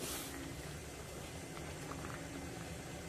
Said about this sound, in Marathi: मस्त कालवणाला उकळी आलेली आहे